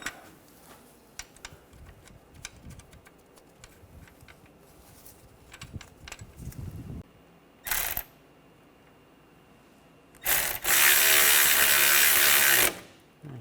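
Nuts are tightened on a bracket of a 2013-2019 Ford Escape 2.0L during CV axle replacement: ratchet clicks and tool handling rattle close up, then brief bursts and a longer loud whir of a power tool.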